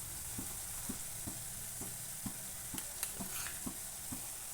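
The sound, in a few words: spices frying and being stirred in pan for potato gravy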